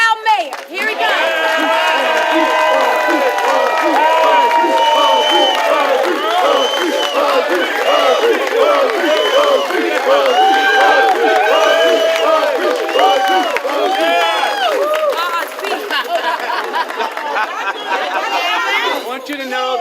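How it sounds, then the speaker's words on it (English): A crowd of citizens cheers and applauds for the mayor at a civic gathering, a steady roar of clapping, whoops and excited chatter that carries on loudly for the whole stretch. "So you proud citizens, clap your hands for our proud mayor."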